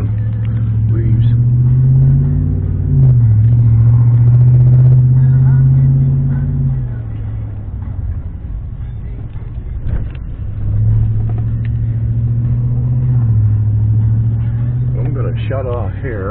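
A car rolls along a road slick with wet leaves during a hurricane, its engine droning low with shifting pitch and steady tire rumble up close, easing off midway before picking up again, with people talking over it.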